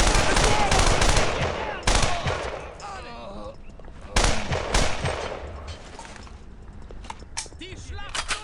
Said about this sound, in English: paratrooper rifle fires the Mauser Follow 8mm